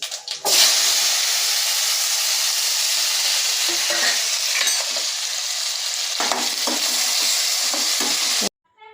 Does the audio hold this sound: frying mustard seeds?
yes